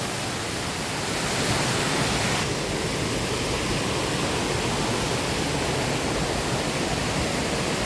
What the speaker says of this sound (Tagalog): Ayan o, waterfall.